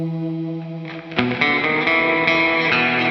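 A guitar run through an effects unit set to a hall reverb gives sustained, washy tones with distortion and chorus shimmer, a soft held passage swelling into a louder, denser strummed section that rings out.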